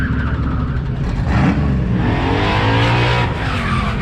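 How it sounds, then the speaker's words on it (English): A Sonic Blue Fox Body Mustang racing at a Goodguys car event in Del Mar, California: a loud, close engine roar with a rising rev and some tire squeal, continuous for a few seconds. "Randy's out there, that good looking Sonic Blue Fox Body Mustang."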